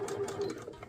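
A sewing machine stitches through a quilted fall fat-quarter oven mitt laid flat, with a steady, quick mechanical whir and rhythmic needle clatter up close for just under a second, no talking.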